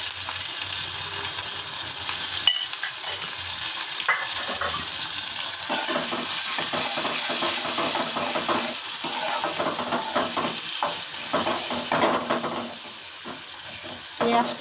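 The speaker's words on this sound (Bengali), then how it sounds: "এবার রাঁধুনি ফোড়ন দিয়ে দিচ্ছি একটু নুন, একটু হলুদ দিয়ে দিলাম," Radhuni seeds, salt and turmeric sizzle in a hot pan for a kochur loti dish. A continuous frying hiss runs throughout with frequent stirring scrapes and utensil clinks against the pan, close and fairly loud.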